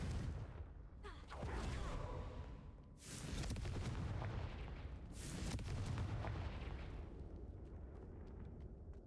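A Confringo fire spell explodes in the Hogwarts Legacy video game, giving several loud booming bursts near the start and around the middle over a dense rumbling game soundscape, with no talk.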